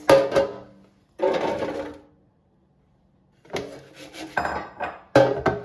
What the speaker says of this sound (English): And now let's put it in the air fryer basket.